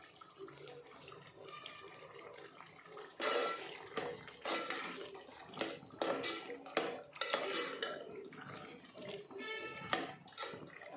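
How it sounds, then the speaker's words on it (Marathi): Chicken biryani in a pot being mixed with coriander, with repeated clinks and scrapes of a spoon against the metal pot and some watery sounds, moderately faint, no clear talk. "हे बिर्याणीचे चिकनमध्ये आता मी थोडीशी कोथमीर घालून मिक्स करून घेणार आहे"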